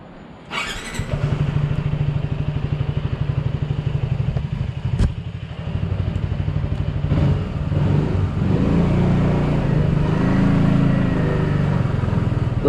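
A 2021 Sym Maxsym 400 scooter engine idles briefly, then pulls away and accelerates steadily, with a loud, close, continuous drone that rises and holds throughout. No one speaks.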